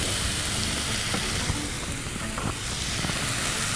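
Mustard greens for sarson saag steaming and sizzling in an open pan, a steady close hiss of frying with faint stirring textures throughout.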